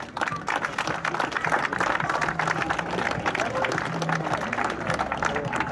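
Crowd at a wine festival in Saint-Eloy-les-Mines applauding loudly, dense sustained clapping with cheering that fills the whole stretch without a break.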